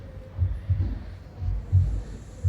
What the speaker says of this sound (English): sound of a heartbeat